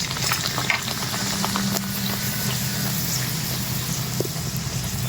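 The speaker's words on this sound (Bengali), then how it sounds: "লুচিগুলো আমার ভাজা হয়ে গেছে এটাই শেষ" Luchi made with palm fruit frying in hot oil for a Janmashtami recipe gives a steady, even sizzle that carries close and unbroken through the whole stretch.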